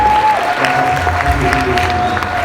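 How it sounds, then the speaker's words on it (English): A crowd applauds warmly at a mariachi presentation, dense clapping filling the space evenly throughout, with a sustained whistle-like tone and some cheering mixed in. "give a warm round of applause for both Beto Jiménez and Mario"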